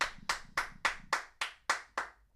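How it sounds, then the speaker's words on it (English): Eight sharp, evenly spaced hand claps in a slow steady rhythm, close and crisp, each with a quick decay, with no talk over them. "Let's clap."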